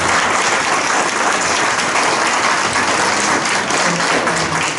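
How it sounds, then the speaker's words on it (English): Audience at a chamber of commerce political forum for county commissioner candidates applauds, steady dense clapping filling the room at full volume throughout without a break. "Let's give these candidates a round of applause."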